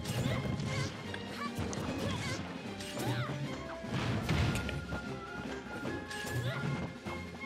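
Up smash attacks landing in a Super Smash Bros. match between Kirby, Lucina and Pyra & Mythra, heard as repeated sharp crashing hits and whooshes over game music and effects, with faint commentary.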